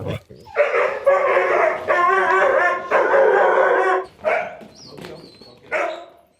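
A young Huntaway dog barks and howls in long, wavering, high-pitched cries broken by short pauses, close and loud, ending with a few shorter yelps.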